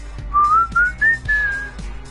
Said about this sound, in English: Can't really whistle when you've got snot clogging your throat.